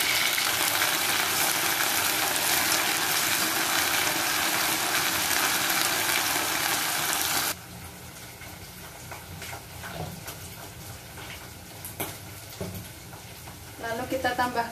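Blended green chili sambal hitting used oil that onions were fried in, a loud dense sizzle filling the first half, then dropping to a softer steady frying hiss with occasional stirring clatter.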